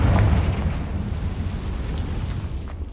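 A Confringo blasting spell from the video game Hogwarts Legacy detonates in one loud, close burst, then its rumbling roar decays steadily over about three seconds.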